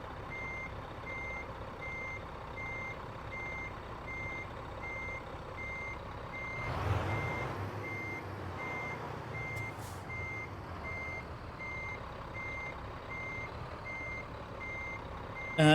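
Steady periodic reversing beeps from a truck backing a trailer in a driving simulator game, repeating evenly throughout with a low engine hum beneath and a brief louder rumble midway.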